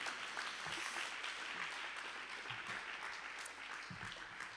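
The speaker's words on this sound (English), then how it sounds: "you can, you know, just applaud yourself" Faint, steady applause from a small audience at an award ceremony, a soft, even patter of clapping that holds for several seconds without a break.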